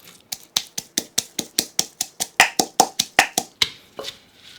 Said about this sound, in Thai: โขลกแค่พอหยาบๆพอนะครับ